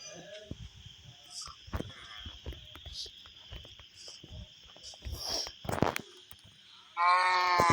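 A cow moos in Minecraft, with faint insect chirping and scattered clicks underneath, then a loud, sustained bovine call bursts in near the end.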